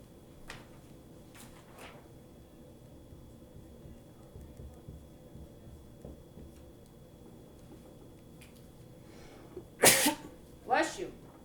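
Quiet room background with faint talk, then a sharp sneeze followed about a second later by another short burst.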